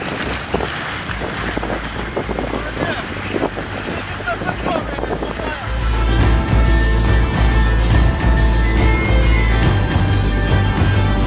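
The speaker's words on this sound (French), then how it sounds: "Le vent nous repousse en arrière" Strong, gusting wind buffets an exposed stretch of the Irish-Scottish coast, a steady broadband roar that surges louder partway through and carries rumbling microphone buffeting, with possible faint surf underneath.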